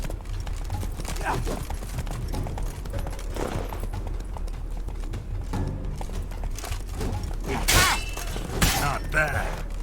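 Horse hooves clatter in a steady gallop through a Witcher 3 fight-quest scene, a continuous rhythmic clopping mixed with game ambience and swells of music, fairly loud and close throughout.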